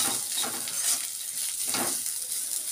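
Salted potatoes sizzle and fry in a pan for a Bengali muri ghonto dish, giving a steady hiss broken by a few louder bursts of spattering and stirring, close by and with no talk.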